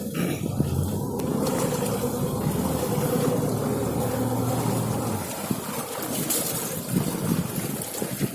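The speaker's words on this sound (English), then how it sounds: "I'll just turn the boat a little bit" A steady motorboat engine drones close by off Kangaroo Island, Australia, a low hum holding for about five seconds before easing off as the boat turns, with water and wind noise around it.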